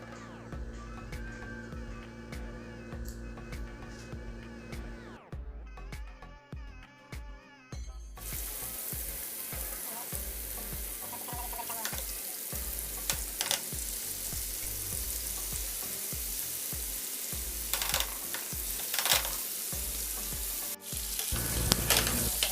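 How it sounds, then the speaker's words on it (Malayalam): Chicken frying in butter gives a steady, dense sizzle, with clinks and stirring scrapes over it. It swells louder partway through and continues with occasional pan knocks, close and without speech. "അപ്പോൾ നമുക്ക് ഉള്ളി റെഡി ആകുമ്പോഴത്തേക്ക് നമുക്ക് ഈ ചിക്കൻ ഒന്ന് ഫ്രൈ ചെയ്തെടുക്കണം. അതിനുവേണ്ടി ഞാൻ ബട്ടറാണ് യൂസ് ചെയ്യുന്നത്."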